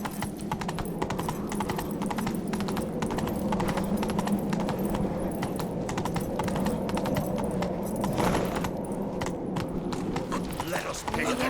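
In The Witcher 3, a horse's hooves clip-clop in a steady, brisk gait under a rider. Voices talk over the hoofbeats, and a faint mechanical jingle runs underneath.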